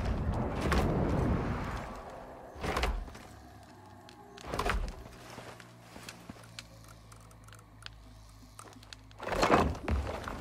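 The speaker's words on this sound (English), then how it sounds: "That exploding noise. Don't say explosions. I know that's what it is" Explosion in the Icarus survival game: several dull, thudding booms spaced a few seconds apart, fairly quiet, with faint rumbling between them and no talking.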